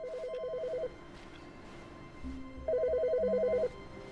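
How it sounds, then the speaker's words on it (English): A telephone rings in The Stanley Parable video game, two bursts of electronic warbling rings separated by a pause, clear and fairly quiet over faint background hum. "Wait, the phone is ringing."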